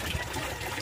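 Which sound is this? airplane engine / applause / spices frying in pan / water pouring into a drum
water pouring into a drum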